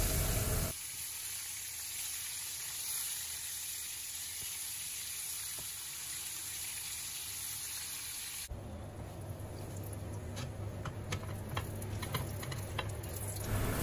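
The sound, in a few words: pointed gourd (potol) frying in oil on medium heat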